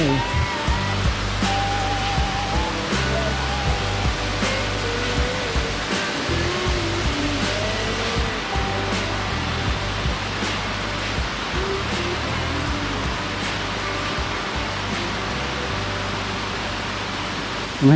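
Rushing water from Erawan Waterfall in Erawan National Park, Thailand, heard near a bridge crossing the falls: a steady, loud broadband roar that holds unbroken throughout with no voices.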